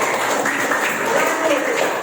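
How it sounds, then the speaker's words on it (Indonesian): An elementary school class claps their hands together in a brief, continuous patter that fills the room evenly. "tepuk tangan untuk kita semua"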